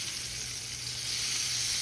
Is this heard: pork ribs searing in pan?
yes